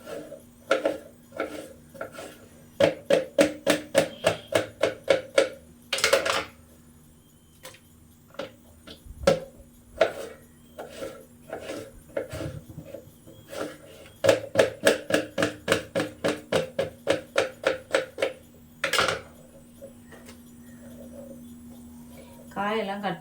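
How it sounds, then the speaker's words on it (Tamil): A knife chops vegetables for sambar, including raw banana, on a cutting board in rapid bursts of evenly spaced knocks, separated by pauses with occasional louder thuds and clatter. "காயெல்லாம் கட் பண்ணி எடுத்தாச்சு மக்களே"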